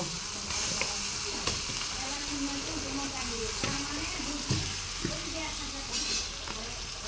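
Silver carp, sarputi and bata fish frying in a pan give a constant close hiss and sizzle, with occasional sharper spits and stirring knocks throughout.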